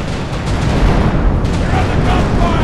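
Gunfire and cannon blasts in a pirate ship naval battle video game, a dense, loud barrage of booming shots with continuous noise and no clear gaps.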